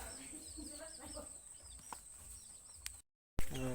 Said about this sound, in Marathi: आता इकडे इकडे कोंबड्या